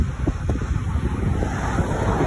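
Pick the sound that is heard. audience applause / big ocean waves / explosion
big ocean waves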